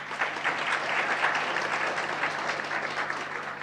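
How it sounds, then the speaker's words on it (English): Steady, dense audience applause for a panel at a conference on information technology for sustainability in agriculture and healthcare, with many hands clapping at an even, sustained level throughout and no voices over it. "So let's hear it up for our panel driven by empowered women. Let's put our hands together."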